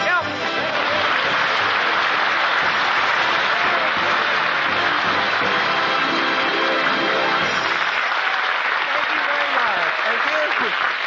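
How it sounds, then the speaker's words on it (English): Radio studio audience and cast applaud a popular comedian at a Christmas broadcast, a loud, dense wash of clapping that holds steady for about eight seconds before thinning into scattered claps. "They're all over the cast is applauding."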